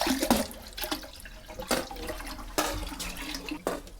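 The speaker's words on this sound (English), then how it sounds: "Does the flush mechanism work okay on this?" Water gushes and splashes in a domestic toilet cistern and bowl as the flush mechanism is tested during a plumbing repair, in uneven bursts with a few sharp knocks, close and moderately loud.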